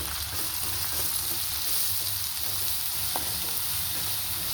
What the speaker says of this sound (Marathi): आता याच्यात टाकू 4 ते 5 कढीपत्त्याची पानं आणि हे जाडसर वाटलेली हिरवी मिरची, लसण आणि कोथिंबीर.